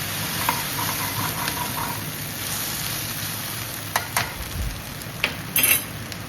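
Okra (bhindi) sizzles loudly in a pan, a bright continuous frying hiss with several scraping stirs and clatters of a utensil near the end, close and without talk.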